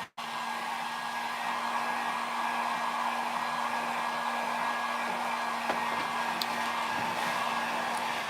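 A heat gun blows continuously at close range while warming a WoodUbend moulding on a seasonal crate, a steady hum with a few light clicks of handling.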